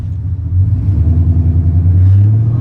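Deep, loud V8 exhaust of a Chevrolet Camaro SS with long tube headers rumbling close by, a steady low burble that swells slightly as it revs.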